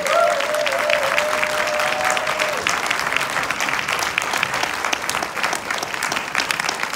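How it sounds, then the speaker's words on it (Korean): Sustained applause from a large seminar audience in a hotel ballroom, dense and steady for the whole stretch, with a brief tonal whistle or feedback near the start and faint voices under the clapping. "크게 박수 쳐주셔야 여러분한테 좋은 에너지가 전달됩니다"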